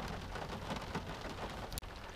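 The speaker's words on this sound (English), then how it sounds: "rain, rain, rain. It's here to stay. More rain." Steady rain falls in an Alaskan summer, a dense, even hiss with one brief click near the end, fairly faint, with no voices.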